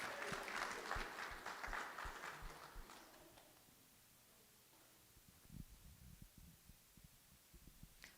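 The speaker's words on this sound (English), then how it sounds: "let's give one more round of applause for the hard work and dedication of these wonderful teams" Applause at a guide dog graduation for the newly graduated teams swells near the start, then thins out into scattered claps and soft thumps over a quiet room hum.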